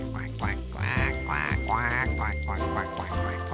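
Six duck quacks in a children's number-learning farm app sound one after another over a steady background tune, bright and clear, spaced in a quick counting rhythm.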